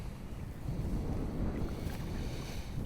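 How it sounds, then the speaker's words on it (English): Steady wind blows across the microphone outdoors on a back-yard fishing trip, a constant low rumbling buffet that stays loud for the whole stretch with no talk. "The wind is the only thing that's causing me problems right now."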